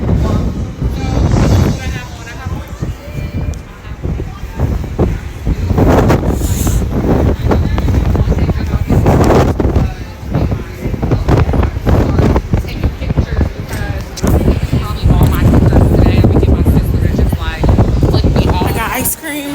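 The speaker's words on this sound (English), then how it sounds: "It's super windy, and I'm actually really cold." Strong wind buffets the microphone in a constant loud roar with gusty surges throughout.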